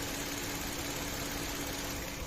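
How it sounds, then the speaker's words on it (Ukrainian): Audi Q7 3.0 TFSI engine idling in a workshop after a crankcase ventilation valve replacement, a steady even hum with a constant tone and faint vibration, running alone without talk. "Двигун працює."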